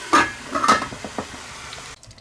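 A metal lid lifted off a pot of simmering Jaffna-style mutton curry, giving a couple of sharp clanks and scrapes followed by softer rattles and a faint bubbling underneath.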